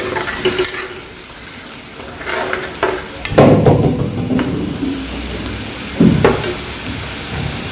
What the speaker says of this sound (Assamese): 3 মিনিটৰ কাৰণে ভাজি ল'ম ভালদৰে